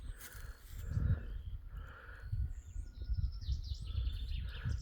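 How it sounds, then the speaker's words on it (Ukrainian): Birds chirp and call outdoors on a mild early-spring day with patches of snow left in the shade, bright twittering notes scattered over steady low rumbling background noise. "На вулиці птахи співають."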